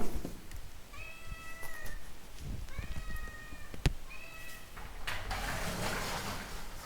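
A cat meows three times in clear, drawn-out calls at a near distance, set against light household clatter and rustling.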